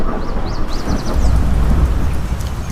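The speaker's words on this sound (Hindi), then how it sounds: "एक दिन अचानक से मौसम बहुत खराब हो जाता है और जोरों की बारिश होने लगती है।" A storm brings heavy rain with rolling thunder, a loud, dense and continuous roar with deep rumbles that swell partway through. No one speaks.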